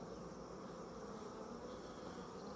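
Honeybees hum steadily from an open hive box during an inspection, a dense continuous buzz that stays close and even throughout with no voices.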